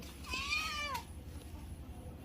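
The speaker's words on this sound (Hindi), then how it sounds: "ये मेरी बिल्ली नहीं, बिल्ला।" A single clear meow from a male cat, rising and falling, close by, followed by quiet background.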